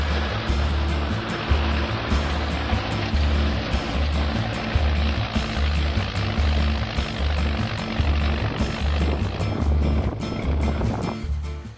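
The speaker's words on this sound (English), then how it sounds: "This is a Volvo A35D, an articulated dump truck. Here it is utilized as a tractor, pulling a disc harrow." A Volvo A35D articulated dump truck used as a tractor rumbles with a heavy, pulsing diesel drone while pulling a disc harrow across a field, loud and continuous with a rhythmic low throb and scraping noise.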